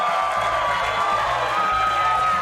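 A loud, steady burst of crowd cheering used as a sound effect, whoops and shouts blending into a continuous roar for a couple of seconds, with no talk over it.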